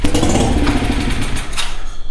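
Mercury outboard motor starting on carb cleaner with a bad fuel pump, a loud close sputtering run that revs unevenly and dips briefly near the end.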